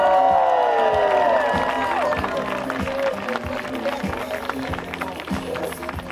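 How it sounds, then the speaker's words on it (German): A church congregation cheers and whoops in a loose, lively burst, with scattered claps and voices rising together, loud at first and then settling into a steadier crowd murmur. "Die Gemeinde jubelt."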